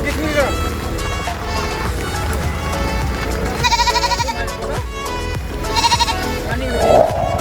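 Goats bleat repeatedly in quavering calls amid a busy outdoor goat market scene in Siaton, Philippines, with people talking throughout.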